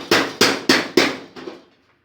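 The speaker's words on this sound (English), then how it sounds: "What you should have is a good steel chisel. And what you want to do, you want to tap in and pry up" A steel chisel is hammered into the edge of a 1964 Impala deck lid skin to pry it up: four sharp metallic taps at an even pace, then a softer fifth tap, each ringing briefly.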